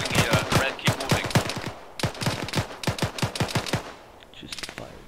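Rapid automatic gunfire from Arma 3 military combat, sharp bursts of many shots in quick succession, loud and close, pausing briefly before another burst, with fainter shots trailing at the end.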